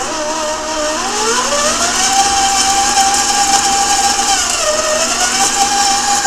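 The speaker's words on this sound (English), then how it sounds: "I'm going to put this in my stand mixer, put the whisk attachment on, and" Stand mixer with a whisk attachment creaming cubed butter for Christmas cookies, a loud steady motor whir that shifts pitch as the speed changes, running alone and close throughout.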